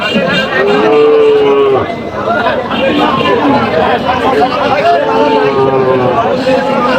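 Cows and calves at a crowded cattle market in Aftabganj haat give repeated loud moos, one long low call early, then several more overlapping, over constant crowd chatter and people talking.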